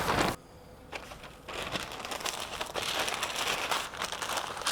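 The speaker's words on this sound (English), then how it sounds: "All right, so next we're gonna do our paper wrap." Smoked brisket being wrapped tightly in butcher paper, with loud crinkling and crumpling of the paper in repeated handling bursts, close and up front.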